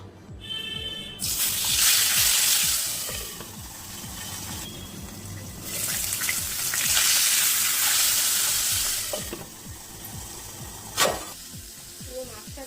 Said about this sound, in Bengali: কড়াই গরম হয়ে গেছে আমি তেলটা দিয়ে দিচ্ছি